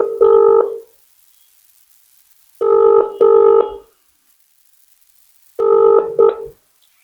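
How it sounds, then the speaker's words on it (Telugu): Ringing tone on a phone call placed to a school principal at a Nizamabad branch: three clear electronic ring bursts spaced about three seconds apart, the later two split into double pulses, with silence between them. "ఫోన్ రింగ్ అయిపోయింది కదా"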